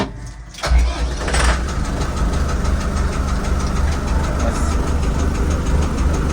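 A Foton-Lovol 454 Plus tractor with a 45 hp engine cranks briefly, catches, then settles into a loud, steady, close diesel idle that runs on without a break.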